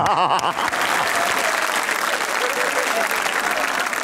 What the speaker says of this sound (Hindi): वाह तालियां।